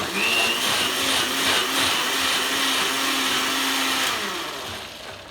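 Blender whirring through a mango and basil smoothie, a loud continuous motor roar with a faint rising whine, running steadily for several seconds alone.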